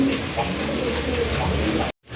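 Giribaj pigeons kept for sale coo in low, rounded calls close by over a busy background hum, cut off by a sudden drop to silence near the end.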